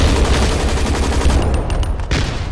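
Rapid shotgun blasts in a zombies video game, a dense burst of loud, close gunfire packed together over a couple of seconds.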